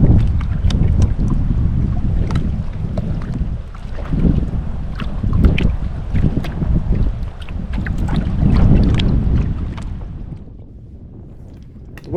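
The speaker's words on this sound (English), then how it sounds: "I'm hearing boats come up on me or fly by me" Boats running on a lake while fishing from a boat, giving a loud, continuous motor drone that swells and recedes with passing craft, mixed with wind buffeting the microphone and no talk.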